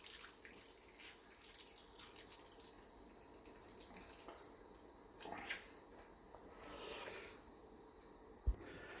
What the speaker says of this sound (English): now I'm gonna squeeze the leaves from the water in it.